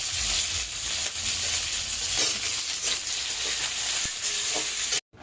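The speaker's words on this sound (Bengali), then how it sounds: "তেজপাতা দিয়ে দেবো, শুকনো লঙ্কা ফোড়ন, পাঁচফোড়ন ফোড়ন দিয়ে দেবো।" Bay leaf, dried red chili and five-spice seeds sizzle and crackle in hot oil for a Bengali spinach dish, a steady close frying hiss with stirring scrapes throughout, no voices.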